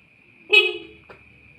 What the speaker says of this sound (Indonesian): ternyata di bagian klakson juga masih keras sekali ya